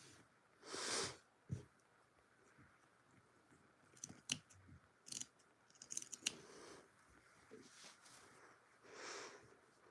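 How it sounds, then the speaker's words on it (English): Crisp, sharp snips of scissors cutting, irregular and close, with pauses and small rustling handling sounds between them. "I love the sound of your scissors"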